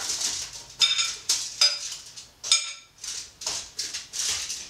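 Seasoned cauliflower pieces tumble onto a foil-lined baking sheet in a quick series of bright, crinkly clatters and taps, about a dozen irregular bursts close by.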